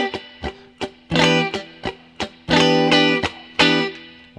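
Funky muted-and-open electric guitar strumming, with choppy percussive scratches punctuated by bright sustained chord stabs in a tight sixteenth-note groove, played alone.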